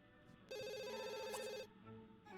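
A telephone rings in The Sims 2, one bright electronic trill burst lasting about a second, fairly quiet and with no voices over it.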